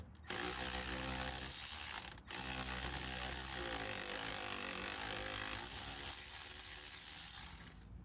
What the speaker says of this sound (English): I can use my electric ratchet to make quick work of pulling all four off